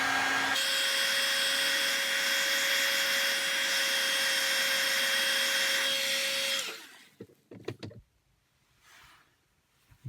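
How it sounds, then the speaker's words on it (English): A heat gun blows hot air onto a pistol for embossing lettering, making a steady, fairly loud whooshing hum with a faint tone for about six seconds. It then switches off, leaving a few quiet handling clicks and knocks. "Maybe just a little bit of heat from the heat gun."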